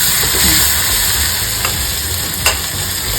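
Chopped onions sizzle loudly in hot oil as a tempering for a roasted eggplant dish, a steady close hiss broken by a few spatula scrapes and a sharp clack toward the end.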